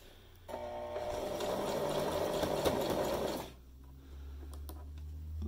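A sewing machine stitching a pleat held down by hand runs in one steady, loud whirring burst of about three seconds, then stops, leaving a low hum and a few faint clicks.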